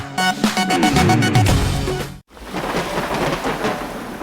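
Thunder rolls and cracks heavily over steady rain as part of a disaster warning announcement. A loud rumble fills the first half, then a brief cut leads into a constant wash of rainfall.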